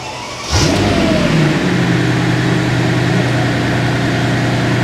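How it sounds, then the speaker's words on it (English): A 2003 Mercedes S600 W220 with a V12 twin-turbo engine cranks and fires up at close range, quickly rising into a loud, steady rev with a sustained mid-pitched drone and no talking. "It's definitely revving more than it did."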